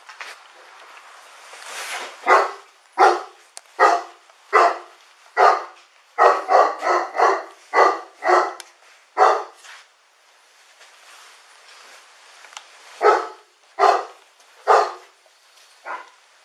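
A dog inside a house, shut in a crate during a police search, barks loudly and repeatedly in uneven clusters of sharp barks separated by short pauses.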